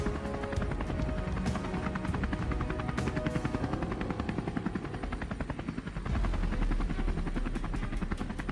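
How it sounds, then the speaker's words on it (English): Helicopter hovering low over a vast field during a hunting trip, a loud continuous rotor chop and engine roar with rapid rhythmic thumping, close and dominant throughout. "the helicopter gradually lowers over a vast field"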